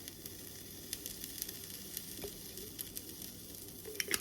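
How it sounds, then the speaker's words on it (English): Oil heating in an already hot pot before vegetables are stir-fried for chicken lettuce wraps, giving a faint, steady sizzle with a few small pops and crackles. "we're going to stir fry the vegetables. So we're going to start again with some oil"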